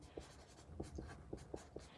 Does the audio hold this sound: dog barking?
no